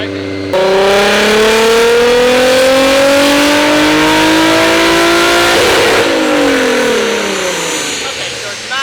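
Four-door Toyota Supra with a straight-pipe exhaust revving hard on a dyno, a loud close engine note climbing steadily in pitch for several seconds, then dropping off as the throttle lifts.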